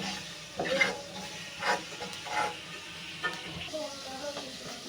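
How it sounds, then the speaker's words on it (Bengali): Black cumin seeds fry in a pan, a soft continuous sizzle broken by several light scraping stirs, close by and fairly quiet. "কালো জিরাটা ভেজে নিচ্ছি।"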